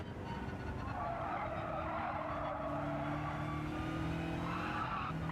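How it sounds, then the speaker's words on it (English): Race car tyres squealing in Gran Turismo 7, a sustained skidding screech over a constant engine drone, loud and unbroken for several seconds with no voices. "His tyres starting to complain a little bit, I think."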